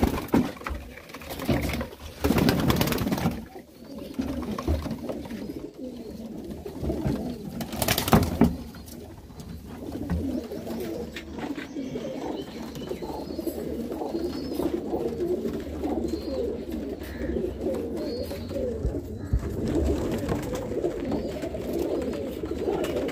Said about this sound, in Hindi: ये भी टैडी क्रॉस कबूतर है भाई